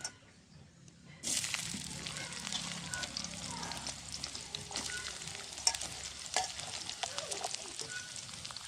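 Onions dropped into hot oil in a pan, village-style cooking for a banana flower vegetable dish: a sudden loud sizzle bursts in after a quiet second, then keeps frying and crackling steadily with occasional stirring.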